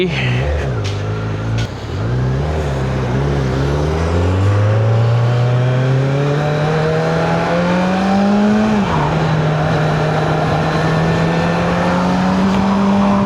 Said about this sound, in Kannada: Okay, finally we are of for a ride on Z900.